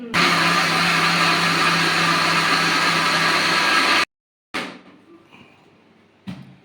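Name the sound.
mixer grinder grinding soaked rice batter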